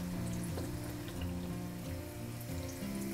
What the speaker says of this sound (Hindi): मालपुआ को धीमी आंच पर ही फ्राई करना है।